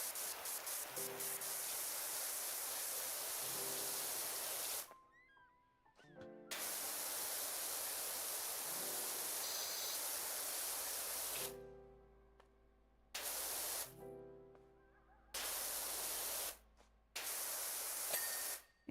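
Surface cleaner spraying in PowerWash Simulator 2 gives a loud, steady broadband hiss that cuts out in several short gaps and then resumes, with faint tonal game sounds showing between bursts.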